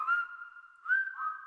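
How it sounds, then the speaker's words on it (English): A person whistling in a radio advert for a junk-removal company: a short melodic whistle of two sustained notes with a brief gap between, clean and close with no talk. "We'll even whistle while we work."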